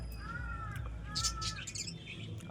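A caught pigeon gives a few soft, brief chirping calls close by over a low steady background hum.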